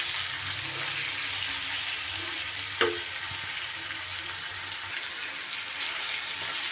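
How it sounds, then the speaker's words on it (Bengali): Chicken frying in a pan, a soft continuous sizzle with a single sharp clink of a spoon midway, otherwise steady and undisturbed. "চিকেনটা আমার নাড়তে হবে।"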